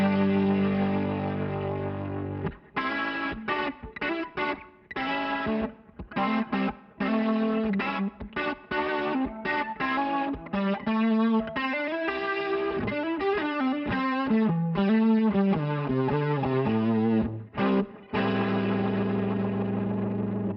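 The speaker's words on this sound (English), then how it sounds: "The speaker cab is being used to soften that power amp distortion that we are dialing in here." Distorted electric guitar driven through a Line 6 Helix modeler on firmware 3.60, power amp distortion softened by a speaker cab model, playing loud continuous chords and sustained notes with brief choppy gaps, alone with no talking.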